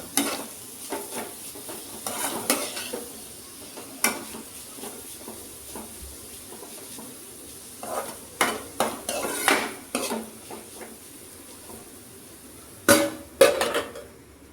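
Food being stirred in a pan, with repeated scraping and clattering strokes of a utensil against the metal over a soft sizzle, in uneven bursts and louder near the end.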